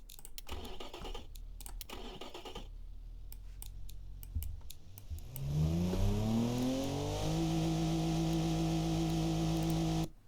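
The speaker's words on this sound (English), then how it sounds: "It is for sure an engine." A car engine in the BeamNG driving game idles and then revs up, its rising whine holding steady and loud, preceded by a few seconds of rapid keyboard clicking.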